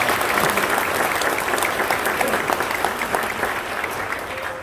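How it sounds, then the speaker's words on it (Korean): Congregation applause fills a church's inaugural service and pastor installation service, dense steady clapping throughout with a faint voice or two murmuring beneath it. "박수 한번 주시겠습니다"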